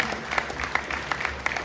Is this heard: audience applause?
yes